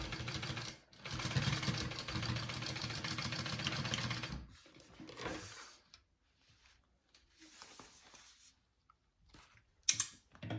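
A sewing machine stitches a seam on a backpack in a rapid, even mechanical rattle for about four seconds, then stops, followed by a brief second burst and quiet handling sounds.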